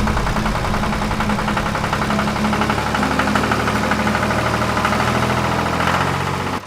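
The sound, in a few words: giant tractor engine running, animated cartoon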